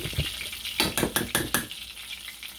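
Catfish and hushpuppies frying in a pan of hot oil, a steady sizzle with a few clinks and scrapes of a spoon against the pan partway through, close and fairly loud.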